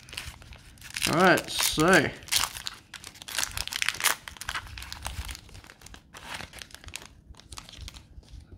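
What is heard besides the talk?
opening card pack wrapper with scissors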